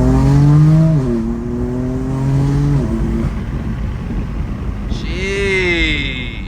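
A BMW M4 CS pulls through a quick 40 mph roll with traction control on, its engine note climbing in pitch and steps up with each gear. A higher whine rises near the end, close and loud inside the cabin.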